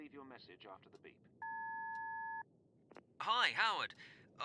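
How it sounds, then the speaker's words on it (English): An answering machine in the horror game Darkness Within gives a single steady two-tone beep lasting about a second, with voice-like sounds before it and a voice speaking after it. "Please leave your message after the beep."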